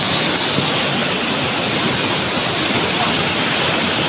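Water rushing through an opened river gate on the Lapad River in Sta. Cruz, a loud, steady, close roar of churning water that continues unbroken throughout.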